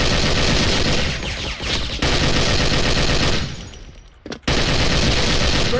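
Soviet-era Degtyarev machine gun firing in the shooter game Special Force, a loud, dense continuous burst of automatic fire that briefly drops away and then resumes at full volume.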